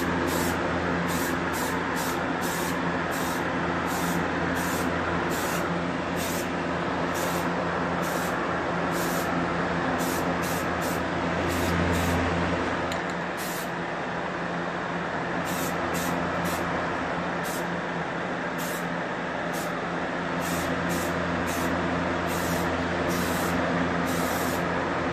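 Spray paint goes onto 26-inch chrome wheels in smoke metallic, a near hissing spray in repeated short bursts over a steady background, with no talk.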